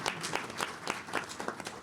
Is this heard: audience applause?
yes